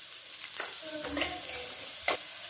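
Turmeric, coriander powder and spices are stirred into food frying in a pan, giving a faint, steady sizzle with a few quiet scraping strokes and clinks.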